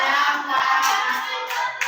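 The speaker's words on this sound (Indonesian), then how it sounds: "Ya, tepuk tangan untuk kelompok 4." Classmates clap their hands for a student group in a school classroom lesson, a dense, steady patter of many hands lasting under two seconds.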